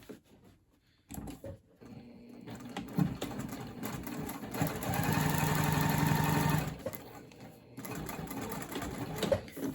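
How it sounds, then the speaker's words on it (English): A sewing machine stitches a crossbody bag down and back up past a magnetic snap, running in bursts of rapid mechanical whirring with a steady, louder stretch in the middle and brief pauses between runs. "the goal is to stitch all the way down and back up the magnetic snap"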